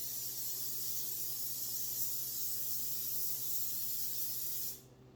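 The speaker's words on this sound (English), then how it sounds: "this is a non-stick pan for the most part, but I am going to spray it anyway." Cooking spray hisses steadily from an aerosol can onto a non-stick pan, a close, continuous spray lasting about five seconds before cutting off abruptly.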